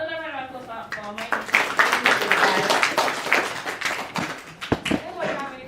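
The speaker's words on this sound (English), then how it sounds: "please, another round of applause" An audience applauds at a Black History Month celebration, with dense, sustained clapping that swells and fades, mixed with cheering and voices.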